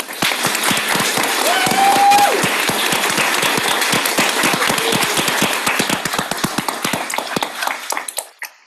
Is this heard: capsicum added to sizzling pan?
no